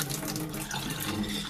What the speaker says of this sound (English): I'm going to pour this water off.